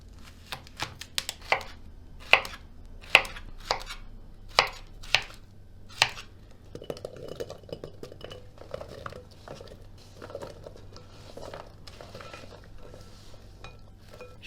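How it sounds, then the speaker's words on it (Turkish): A knife chops zucchini into thick half-moons on a cutting board in a home kitchen, with sharp, evenly spaced thunks at first that give way to quicker, softer cuts and light clinks close by. "Evet, kabaklarımı bu şekilde doğrayacağım."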